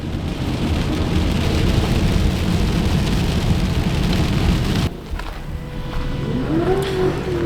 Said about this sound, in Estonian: Sadu on siin natuke lahjem, aga ikkagi sajab ja märg on.